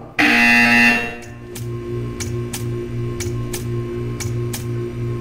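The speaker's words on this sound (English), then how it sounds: "When you hear the buzzer, stare at the art." A buzzer in the Portal 2 video game sounds as a repeating low electronic drone, pulsing steadily about twice per second after a brief louder opening tone, with faint ticking clicks above it and no talk.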